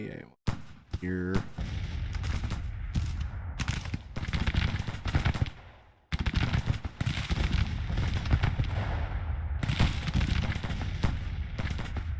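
Battlefield gunfire and cannon fire from artillery guns in Grand Tactician, a Civil War strategy game set at Manassas, roll on as a dense, continuous barrage under a speaking voice, with a brief break partway.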